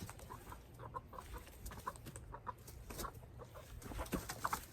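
Chickens cluck and squawk in short, scattered bursts while being chased around a coop, a busy, fairly close flurry of fowl calls and movement with no speech.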